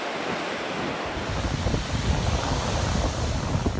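Stormy Aegean Sea with crashing surf and strong wind, a dense continuous roar of waves and gusts buffeting the microphone, loud and close, with no voices.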